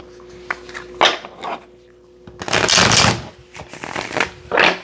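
Tarot cards are shuffled in loud riffling bursts, several separated by short pauses, close and clear with no talking.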